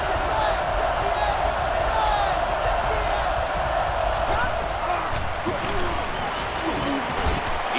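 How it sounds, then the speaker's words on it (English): A stadium crowd cheers in NCAA Football 09 as a steady, dense roar. It sits under a commentator's voice and holds at an even level throughout. "this crowd is going crazy"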